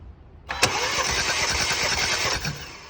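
A car engine cranks steadily during a compression test, with its spark plugs out and oil found on cylinders one and three: a loud, even, rapid rhythmic churning that starts abruptly and runs for about two seconds before stopping.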